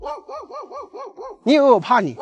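A village dog in a remote Guizhou cliffside village barks in a quick, evenly spaced run of about seven yaps, then a voice speaks loudly close by, with one more bark mixed into the speech.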